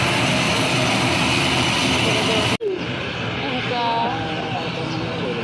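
A steady, loud engine roar inside a passenger airplane on a flight from Makassar to Bone, broken by a brief dropout, with people talking over it.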